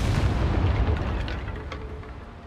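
A Confringo spell explodes in the Hogwarts Legacy video game, a loud, dense rumbling blast that fills the clip and slowly fades while staying heavy throughout.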